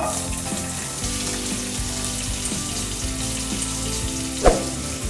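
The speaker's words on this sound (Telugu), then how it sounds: "ఆయిల్ హీట్ అయింది కదా ఇప్పుడు సన్నగా కట్ చేసుకున్న ఉల్లిపాయ ముక్కలు వేసుకుందాం" Thinly sliced onions hit hot oil and fry with a loud, continuous sizzle up close, with one sharp clink near the end.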